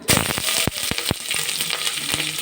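Chopped onions and green chillies sizzle and crackle in hot oil with fresh curry leaves and cumin, and the bright popping spatter is loud and close. Sharp snaps break through a steady frying hiss, with no voices.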